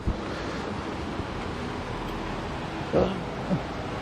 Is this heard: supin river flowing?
yes